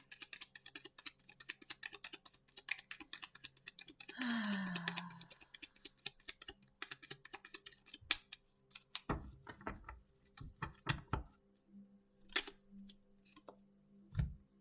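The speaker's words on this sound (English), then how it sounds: "I don't like seeing the cards when I shuffle like that." Quiet, rapid papery clicks and taps of playing cards being shuffled, coming in bursts, with a soft sigh partway through.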